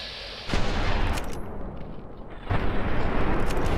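Gunfire in Fallout New Vegas: a sudden loud burst of shots erupts, rattles on steadily, eases a little, then surges again into a dense, sustained barrage.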